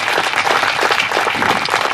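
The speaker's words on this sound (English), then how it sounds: "Give them a round of applause." A rally crowd applauding firefighters at a U.S. Forest rally in Ruidoso, a dense, steady wash of many hands clapping that runs loud and continuous for the full two seconds.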